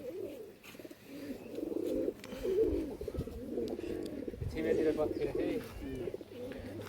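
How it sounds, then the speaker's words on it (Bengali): Rajshahi local Giribaz and Pakistani pigeons coo in a loft, a continuous low burbling chorus of overlapping calls close by, with a voice speaking over them. "আর পাকিস্তানি কবুতর সব মিশ।"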